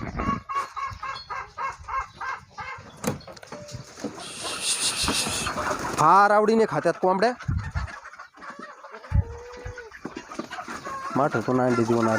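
A flock of about a hundred hens clucks busily as feed is scattered, with repeated close clucks and squawks, a burst of rustling or pouring, and someone speaking over them.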